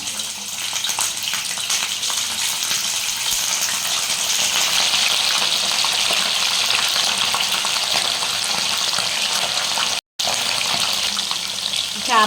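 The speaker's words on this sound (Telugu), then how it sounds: "ఆయిల్ హీట్ అయిపోయిందండి ఇప్పుడు చేప ముక్కలు వేసుకోవాలి ఒకటి ఒకటిని" Fish pieces frying in hot oil, a steady loud hiss and crackle of sizzling that continues evenly throughout, heard close up.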